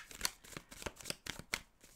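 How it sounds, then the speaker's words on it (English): Tarot cards are shuffled close up in a quick run of crisp riffling flicks and soft slaps, roughly eight bursts in two seconds, with no talk. "One more shuffle."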